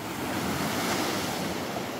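Surf washing onto Nipah beach on Pulo Aceh, a steady broadband rush of waves mixed with wind noise on the microphone, loud and continuous with no speech.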